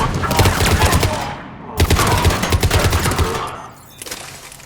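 Sustained gunfire from enemies and allies during a firefight in the Mass Effect 3 Omega DLC, loud rapid automatic volleys with brief pauses between bursts.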